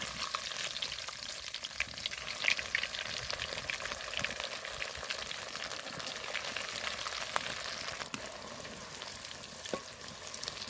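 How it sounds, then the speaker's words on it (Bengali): Beetroot-tinted vegetable chops deep-fry in hot oil in a wok, producing a quiet, steady bubbling sizzle with occasional faint crackles and no voices. "কড়াইতে তেল বসিয়েছি তেল গরম হয়ে গেছে আমি এক এক করে দিয়ে সব ভেজে নেব"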